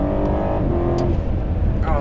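An Alpina B7 luxury sedan accelerates hard in sport mode, engine note climbing then dropping with a quick gear change near the end, loud and close with steady road and cabin rumble underneath.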